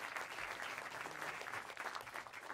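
A live audience at a public debate on surveillance and safety breaks into sustained applause, dense overlapping clapping heard alone without voices.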